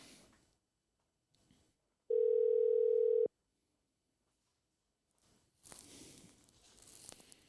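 A steady telephone dial tone sounds loudly for about a second before a call is placed, surrounded by quiet room noise and some rustling.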